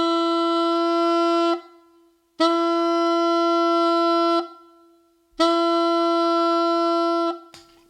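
Three sustained, steady saxophone tones with clean, crisp tongued starts and stops, separated by short silences, each note evenly held for about two seconds.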